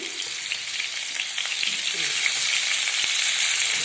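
Potatoes tossed into eggplant already frying in a pan, with no water added, set off a steady, close hiss of oil sizzling that grows slightly louder, with a few faint clicks of stirring.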